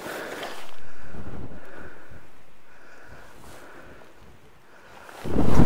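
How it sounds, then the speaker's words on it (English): Strong wind buffeting the microphone on a rocky fell summit in the Lake District, a gust swelling early then slowly fading as a steady roar, followed by a fresh loud blast at the end; no talking. "It's very windy."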